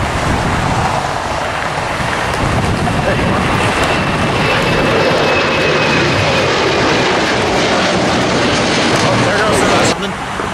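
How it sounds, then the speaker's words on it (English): A Delta jet airliner taking off at LAX roars loudly and continuously, a broad rumbling engine blast that holds for about ten seconds before cutting off abruptly. "Just a Delta plane taking off."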